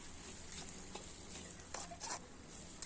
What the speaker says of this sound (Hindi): इल चलात रहो ताकि नीचे से हमार सब्जी चिपकाए नहीं